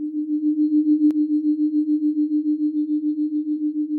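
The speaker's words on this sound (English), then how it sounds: "Her only external stimulus comes from tones in her headphones." Steady low sine tone played through headphones during a sensory deprivation session, with a faint higher tone above it and a gentle regular pulsing in loudness, interrupted once by a brief click.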